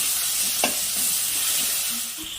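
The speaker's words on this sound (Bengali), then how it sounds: "তেলের মধ্যে অল্প হলুদ দিয়ে দিলাম, তার মধ্যে টমেটো কুচিগুলো দিয়ে দিলাম, দিয়ে একটু ভেজে নিব টমেটো কুচিগুলো।" Chopped tomatoes frying in hot oil with a pinch of turmeric, a loud, steady sizzle with a brief stirring clatter near the start, no voices.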